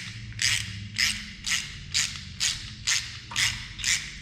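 A hand ratchet loosens a bolt in a garage with eight to nine evenly spaced bursts of crisp clicking, close and moderately loud, over a low background hum.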